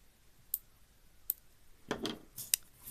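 Scissors snip off excess thread in beadwork, a few sharp, isolated clicks spaced out over a quiet background.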